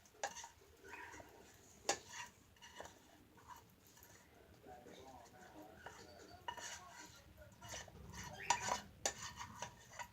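Green lentil soup stirred in a pot, with quiet, irregular clinks and scrapes of a spoon against the metal and a soft wet swirl underneath, faint and close throughout.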